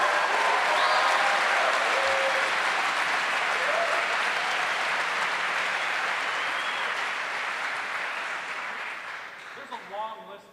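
Sustained applause from an audience at a university event honoring a returning football coach, loud dense clapping that gradually fades, with voices coming in near the end.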